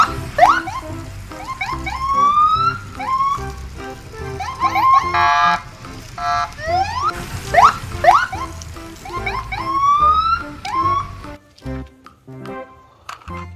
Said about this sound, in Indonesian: Ada mobil polisi patroli.